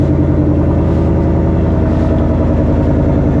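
A Ford Mustang GT's V8 engine idles steadily up close while warming up, a loud, even low rumble with a slight rhythmic pulse and no talking.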